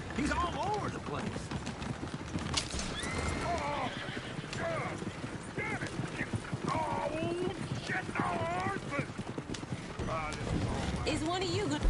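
Horse hooves clip-clop steadily through Red Dead Redemption 2 gameplay, with occasional whinnies and a coach nearby, running the whole way beneath ongoing talk.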